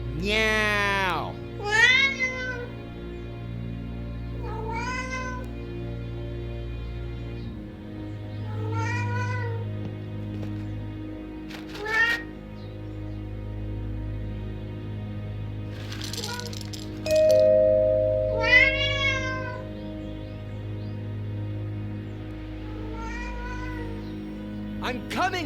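A cat meows repeatedly in the video game Alfred Hitchcock – Vertigo, in drawn-out, rising and falling cries, separated by pauses, over a low steady hum with a few clinks and rattles.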